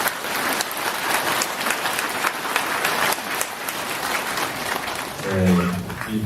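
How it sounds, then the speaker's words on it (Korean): A congregation applauds during an evening Marian devotion celebrating a religious order's 50th founding anniversary, with a full, continuous round of clapping from the crowd and a voice coming in near the end. "모두 박수 한번 쳐주시죠."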